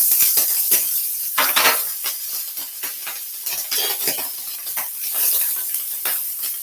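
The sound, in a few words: ham searing in hot pan with avocado oil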